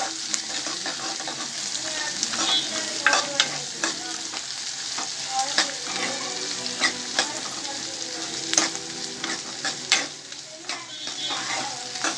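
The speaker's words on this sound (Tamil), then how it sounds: "3 பல்லு பூண்டு, ஒரே ஒரு வெங்காயம், 4 பச்சை மிளகாய் போட்டு நல்லா வதக்கணும்" Garlic cloves, a single large onion and four green chillies sauté in hot oil in a pan for tiffin kulambu, a steady close sizzle broken by repeated scraping stirs of the spoon throughout, with no talking.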